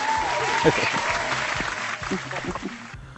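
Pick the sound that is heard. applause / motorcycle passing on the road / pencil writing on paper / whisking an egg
applause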